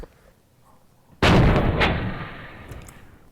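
A single sharp, very loud gunshot muzzle blast fired right beside a head, a sudden crack after near silence followed by a fading rumbling decay.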